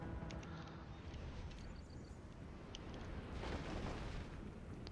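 Artillery volley explosions from Total War Warhammer 2, a dense rumbling barrage of booms and bursts that swells louder toward the end, heard alone without voices.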